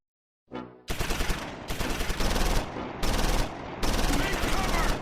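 Gunfire in the Close Combat 4 game, set in the Battle of the Bulge, loud bursts of rapid machine-gun and rifle fire in several sustained volleys separated by short gaps, preceded by a brief voice.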